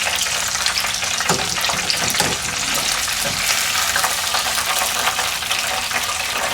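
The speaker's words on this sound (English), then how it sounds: "when your oil is hot enough, go ahead and throw in your chicken. Let's let it start frying until golden brown." Chicken wings for homemade Buffalo wings fry in hot peanut oil, giving a steady, close crackling sizzle with bursts of bubbling throughout and no voices.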